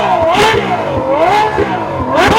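A McLaren 570S and a Ferrari F12 roar side by side in a drag race, loud close engines revving hard, with pitch climbing and dropping through repeated gear shifts and no talking.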